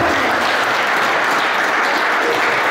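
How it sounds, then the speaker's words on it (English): Steady, dense applause from an event crowd fills the space, loud and continuous with no pause. "Big round of applause."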